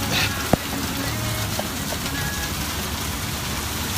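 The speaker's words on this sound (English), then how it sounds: "It's rain." Steady rain falls outdoors at the Larry Joe Taylor Texas Music Festival, a dense, even hiss of drops on surfaces with one sharp knock near the start.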